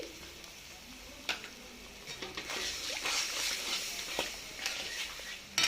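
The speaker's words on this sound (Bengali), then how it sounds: "নারকেলের দুধটা দিয়েই আমি এটা বাটিটাকে ধুয়ে দিচ্ছি" Coconut milk swishes and splashes softly in a bowl as it is rinsed out and poured into a pan, with faint scattered clinks and sloshes at low volume.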